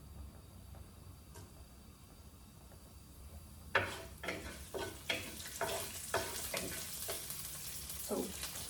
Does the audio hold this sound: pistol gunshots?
no